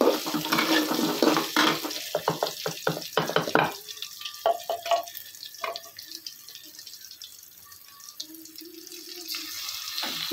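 Potatoes frying in a pan in a home kitchen, with intermittent sizzling and clattering of stirring, busy at first then thinning out to quieter, sparse crackles.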